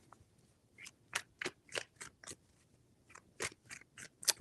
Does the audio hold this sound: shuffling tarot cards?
yes